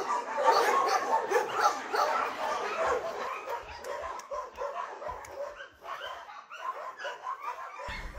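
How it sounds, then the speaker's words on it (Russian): Several dogs bark and yip around an animal shelter, sharp overlapping barks with whimpers mixed in, fairly close and continuous, while people talk in the background. "Его не смущает ни лай собак,"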